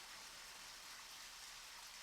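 Steady rain falling in the video game Deadly Premonition, a soft even hiss of drops on surfaces, faint and unbroken.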